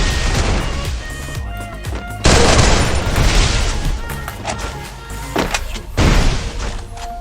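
Gunfire in a shooting video game, bursts of loud close shots and booming blasts, with sharp impacts around the middle and near the end.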